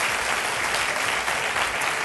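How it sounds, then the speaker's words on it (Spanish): A studio audience applauds steadily, a dense, even wash of many hands clapping at close range with no voices on top, during a Spanish televised debate show. "Han aplaudido muchos hombres"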